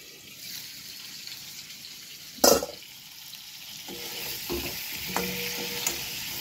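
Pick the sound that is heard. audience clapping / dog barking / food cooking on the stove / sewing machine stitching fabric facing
food cooking on the stove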